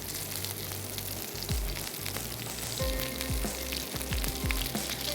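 Potato tikkis frying in a pan over a low flame give a steady, soft sizzle and crackle, fairly quiet and close, with occasional light clinks and stirring noises.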